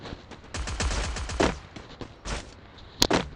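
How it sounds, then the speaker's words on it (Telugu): Rapid gunfire in the Free Fire battle royale game, with several bursts of automatic shots and a couple of sharp louder reports near the end, no talk. "గన్ ఫైరింగ్ సౌండ్ అయితే వస్తుంది ఇక్కడ"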